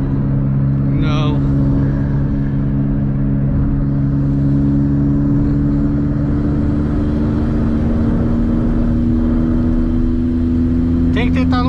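A car engine runs steadily and loud throughout, with a low sustained drone and only slight rises in pitch, heard from inside the vehicle during a street race between a Jeep Compass and a VW Up TSI.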